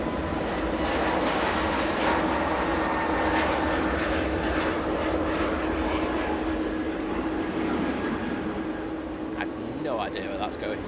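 EasyJet airliner on its takeoff roll at Manchester Airport, a distant steady jet engine roar that holds throughout, with faint crackling near the end.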